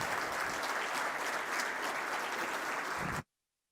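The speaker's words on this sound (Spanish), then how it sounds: "pido para él un fuerte aplauso" Sustained audience applause at a corporate sustainability report presentation, dense and steady for about three seconds before cutting off abruptly to silence.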